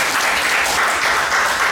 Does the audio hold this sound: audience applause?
yes